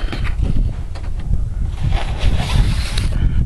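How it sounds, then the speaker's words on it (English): Strong outdoor wind gusting straight into the microphone, a loud continuous rumbling roar that swells and eases for a few seconds with no speech. "No sooner than I start doing this and the wind kicks up."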